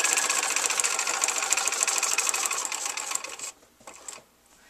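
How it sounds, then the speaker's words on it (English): A sewing machine stitches a paper-pieced quilt block with a steady, close whirring run for about three seconds, then stops, followed by a couple of brief soft mechanical clicks. "So I'm sewing all the way around."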